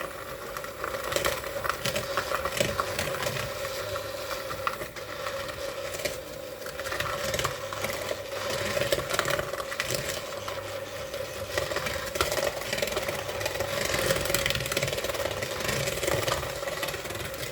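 An electric mixer creams thick peanut butter cookie dough, running with a steady whirring motor hum and uneven thumping churn from the stiff dough, fairly close, with no talking.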